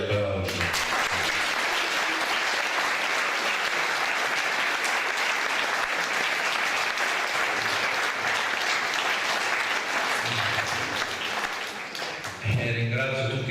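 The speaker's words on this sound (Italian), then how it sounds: "io dico che merita anche lei un bel applauso" Sustained audience applause fills the Basilica of Sant'Eufemia in Grado during a solemn first Mass for Corpus Domini, steady and dense for about twelve seconds before thinning out, with brief low voices near the end.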